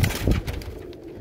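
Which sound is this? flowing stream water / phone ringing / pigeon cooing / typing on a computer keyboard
pigeon cooing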